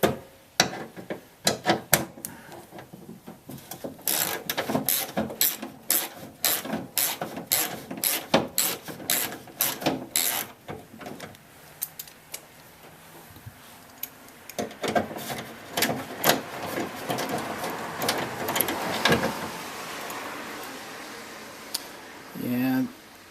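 Bolt being loosened on a window regulator inside a 2001 Dodge Dakota Quad Cab rear door, with irregular ratcheting clicks and scraping that come in bursts, close and moderately loud.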